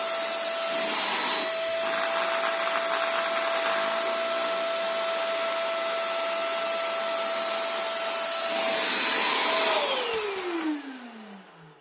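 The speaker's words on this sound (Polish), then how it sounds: "odkurzacz się wciąga wszelkiego rodzaju zanieczyszczenia" A Hoffen UV antibacterial vacuum cleaner runs loud and steady with a high whine for about ten seconds, then switches off and its pitch sinks as the motor winds down.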